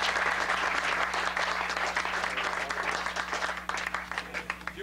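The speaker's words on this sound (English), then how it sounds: "let's have one last round of applause for Andre Dawson" Audience applause for baseball player Andre Dawson at a ballpark event, a dense, sustained round of clapping from a crowd that thins slightly toward the end.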